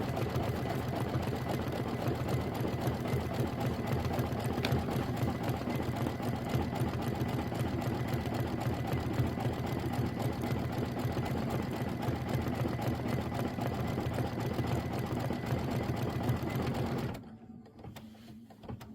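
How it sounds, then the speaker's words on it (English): An embroidery machine stitches a turkey body placement line for a pillow, a steady, continuous rapid mechanical hum and clatter up close that stops abruptly near the end. "we're going to stitch the turkey body placement line"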